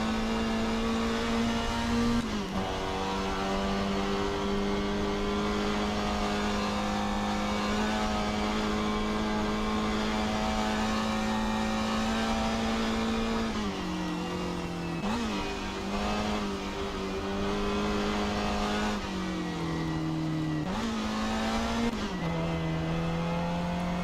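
A race car engine in the Assetto Corsa video game, on a practice lap at Goodwood, drones loud and steady at a high, sustained pitch, with its note dipping and rising through several gear changes and braking points, with no voices.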